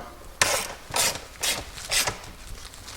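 Front seat mounting bolts on a Polaris RZR side-by-side are tightened by hand with a ratchet, giving four rhythmic bursts of close, loud clicking ratchet strokes separated by short pauses.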